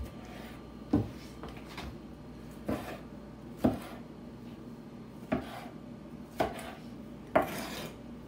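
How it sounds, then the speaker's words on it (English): Knife dicing fresh vine tomatoes on a wooden board for a salad, giving about seven spaced, moderately loud chops with soft rasping between them, close by and with no talking. "Dicing tomatoes for the salad."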